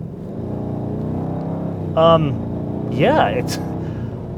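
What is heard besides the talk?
Bentley Mulsanne EWB limousine accelerating hard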